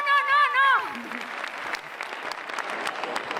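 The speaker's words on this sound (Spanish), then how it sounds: "Aplausos." Audience applause at a murga competition semifinal in Pontevedra, following a shouting voice, a steady wash of clapping that carries on through the rest of the stretch at moderate loudness.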